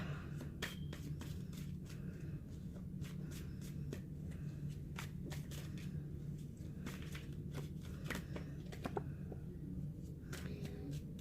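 A deck of tarot cards is shuffled by hand in a steady run of soft riffling and crisp snapping flicks, close and moderately quiet over a low background hum, with no talking.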